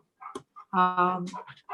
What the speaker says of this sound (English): And now my dogs are talking.